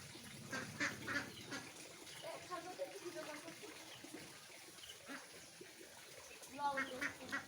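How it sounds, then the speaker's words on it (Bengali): Domestic ducks of two kinds call at a rural home, with repeated quacks and honk-like calls near and far, bursts of calling at the start and again near the end, over light outdoor background noise. "বাড়ি দু রকম হাঁস রয়েছে"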